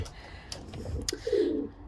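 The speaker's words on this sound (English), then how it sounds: "with Genevieve, our Blanchard pigeon, and AJ, our Sean Huntcock." Pigeons coo softly in a breeding loft housing a Blanchard pigeon, with a low burbling coo rising near the end amid faint rustling and a few knocks.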